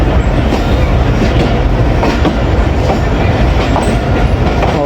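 The Sandal Express rolls on rails near Khanewal Junction in Pakistan, a loud, close, continuous rush with a rhythmic clickety-clack of wheels over the track joints.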